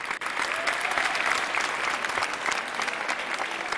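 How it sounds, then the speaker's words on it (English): Strong, sustained applause from a large audience at the 2009 Alois Alzheimer Award ceremony in Vienna as Naomi Feil comes on stage; dense, even clapping throughout, loud and continuous. "Greeted by strong applause, NAOMI-FEIL comes on stage."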